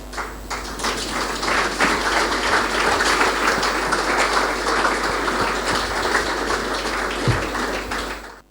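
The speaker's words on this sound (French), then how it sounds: "Nous allons les applaudir." Sustained applause from an audience at a music awards ceremony, a dense, steady wash of many hands clapping that holds at an even level for several seconds before cutting off.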